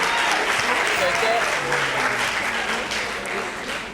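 Audience applause at a school arts festival, the Lycée d'État Paul Indjedjent at Festialib 2019, a steady wash of clapping crowd that holds for the whole stretch without breaks.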